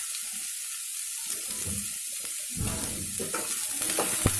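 Onions frying in a pan for a chicken fry, a continuous bright sizzle and hiss close by with occasional stirring scrapes and a low clatter, no talking.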